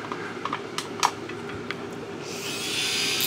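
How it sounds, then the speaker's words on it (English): A micromotor fitted with a diamond trim saw attachment cuts hardened steel: a few light clicks and taps, then a steady, high-pitched grinding whine that builds over the final second. "no problem cutting metal"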